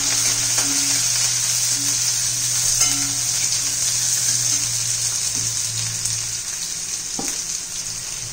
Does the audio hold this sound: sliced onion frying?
yes